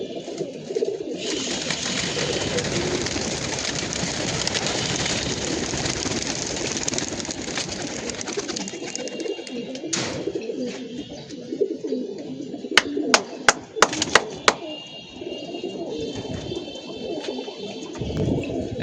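Pigeons coo steadily on a rooftop loft before release, a dense layer of soft calls over a low engine-like rumble, with a few sharp clicks or flaps near the end.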